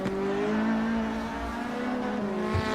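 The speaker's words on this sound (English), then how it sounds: "you can hear Melvin slipping down the gears" A GTi-class race car in an SRA GTi Challenge round braking while dropping through the gears, engine note shifting in steps over about three seconds with a short tire or blip sound near the end.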